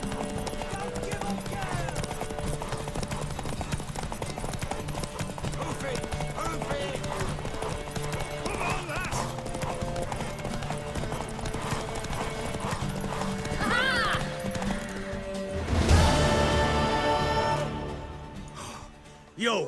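A horse gallops in a race in The Witcher 3, its steady clip-clop of hooves running under game music and voices, with a whinny and a louder burst near the end.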